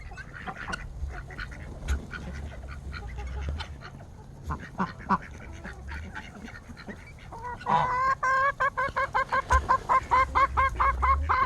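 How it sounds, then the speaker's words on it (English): Backyard chickens cluck and squawk close by among geese and ducks, scattered calls giving way to a rapid, rhythmic run of loud clucks near the end. "Jimmy, be nice to those chickens."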